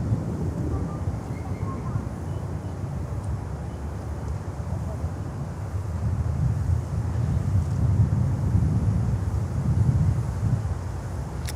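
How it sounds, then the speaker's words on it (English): Wind at Miami airport buffeting the microphone, a steady low rushing roar that swells slightly midway, with a voice talking underneath. "A little bit of a wind, yes, but nothing really crazy."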